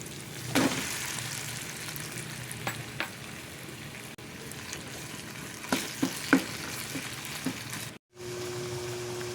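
Ground pork sizzling and frying with tomatoes in a pan: a steady crackling hiss with occasional sharp clinks of a utensil stirring, close up, ending in a short cut and a faint hum.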